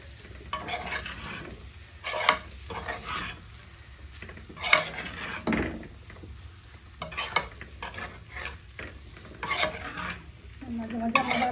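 Food stirred and mixed in a pan for chicken nuggets and fries, with a utensil scraping and clinking against the metal in irregular close strokes over a soft sizzle.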